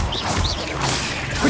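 A short Expelliarmus disarming spell cast in the Hogwarts Legacy video game: a sharp magical crash with bright swooshing whistles, loud and close, with no voices.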